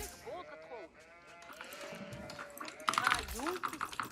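Sheep in the Age of Empires IV game bleat several times, the wavering calls rising over light ambient game sound, with busier effects and a final bleat near the end; someone talks in the background.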